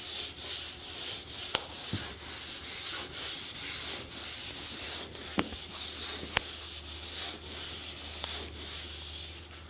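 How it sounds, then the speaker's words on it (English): Steady rhythmic rubbing of hand sanding on a wet surface, close up, with a few faint sharp clicks scattered through. "And that's really the key with wet sanding."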